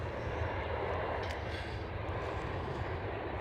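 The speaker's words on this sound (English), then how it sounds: "Here goes the KLM City Hopper E175." KLM CityHopper Embraer E175 jet at Amsterdam Schiphol, a steady broad engine roar heard from a distance, continuous and even throughout with no talk.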